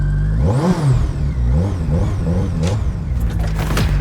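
A motorbike engine revs repeatedly, rising and falling in sharp bursts at close range, loud and aggressive.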